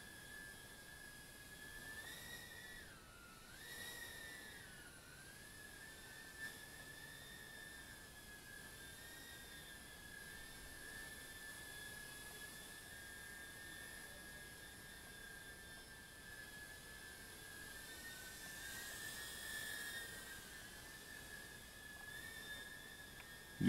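Makerfire micro FPV quadcopter motors held at high throttle give a steady, high-pitched whine that wavers slightly in pitch and carries on continuously at moderate level with no talk.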